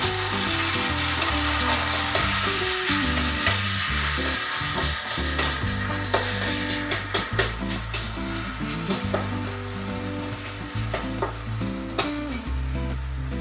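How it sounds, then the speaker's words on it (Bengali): Tomatoes fry in a pan for a Bengali mustard fish curry, giving a continuous sizzle with occasional stirring scrapes. Music plays underneath, but no one speaks. "এরপরে টমেটো ভাজা ভাজা হয়ে গেল।"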